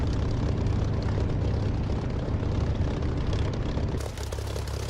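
In the flight simulator DCS, the piston engine of a Spitfire Mk IX drones loud and steady with a dense propeller roar. Near the end the tone shifts abruptly as the view changes.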